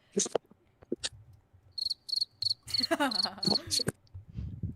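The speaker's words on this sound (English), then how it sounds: "Somebody needs to put a soundboard of crickets on here." Cricket chirps used as a sound effect, a series of short, evenly spaced high trills, interrupted by bursts of voices talking near the start and middle.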